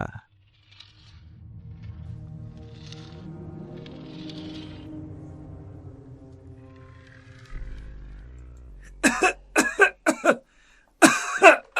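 A low droning hum fades out, then a run of sharp, harsh coughs erupts close by in two clustered fits.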